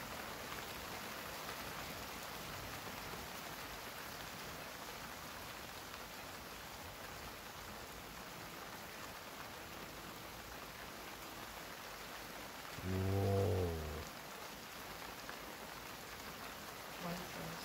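Heavy monsoon rain pours in a steady, even hiss across the whole stretch, with a brief low thump rising near the end.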